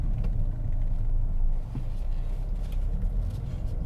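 A steady low road rumble and muffled engine hum from inside a 2020 Mercedes-AMG CLA35 sedan with a 302-horsepower 2-liter engine, cruising smoothly on the road at moderate, even volume.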